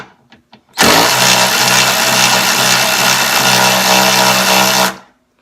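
Kimo 12-volt cordless ratchet loosening a bolt, a loud, steady high-pitched motor whir that starts abruptly after a few faint clicks, runs about four seconds with slight variation, then cuts off sharply.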